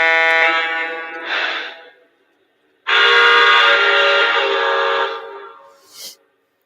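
A model train horn on a LEGACY 4-12-2 or AC-12 Cab Forward locomotive sounds in two loud sustained blasts, the first tapering off and the second steady, with a faint brief hiss between and at the end.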